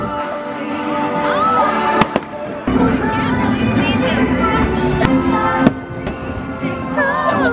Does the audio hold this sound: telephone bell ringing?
no